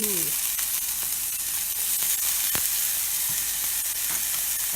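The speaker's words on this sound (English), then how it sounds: "I'm going to add some minced garlic as well" Minced garlic sizzling loudly in a frying pan, a dense, constant bright hiss held up close at even volume, with a few faint clicks and a brief murmur of voice near the start.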